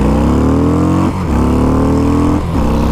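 A 2019 Harley-Davidson FXDR motorcycle accelerates hard through the gears, its loud engine note climbing steadily before two quick breaks for upshifts, then pulling upward again each time.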